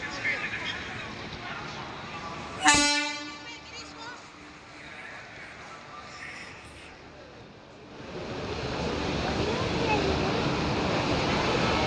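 An Indian Railways WP7 locomotive hauling an express train sounds one sharp horn blast, followed by a rising, steady roar as the train rolls past close by. Voices can be heard in the background.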